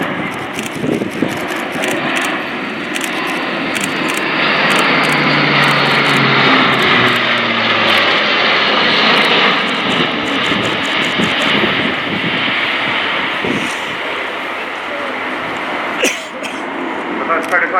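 An Airbus A400M Atlas, driven by four Europrop TP400-D6 turboprops, roars overhead at an air show display, its loud propeller drone swelling and holding steady with a slight pitch shift as it passes, a commentator speaking over it.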